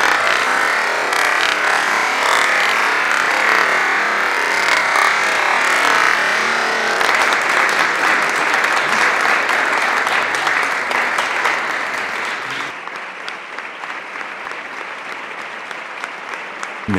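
Sustained, loud audience applause fills the space as a steady dense roar of clapping, then drops away abruptly near the end, leaving a quieter background.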